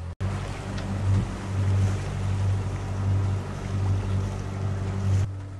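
Sailboat motoring across open sea on engine power, a steady low drone with a regular throbbing pulse over broadband wash of water and wind, continuous and fairly loud throughout with no voices.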